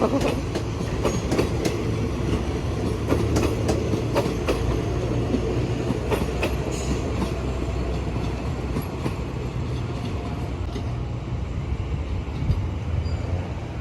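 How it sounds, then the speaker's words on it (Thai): A special express train rolls through Bang Sue Junction railway station with loud, continuous wheel rumble and rhythmic clickety-clack of rail joints, close by and alone. "ขบวนรถเที่ยวขึ้นที่เราไปนะคะ เป็นขบวนรถด่วนพิเศษขบวนที่ สี่สิบสามหรือเปล่า"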